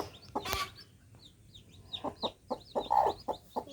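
Backyard chickens cluck in short, repeated bursts at moderate distance, with a sharp scuffle or flap near the start and the clucks growing denser toward the end.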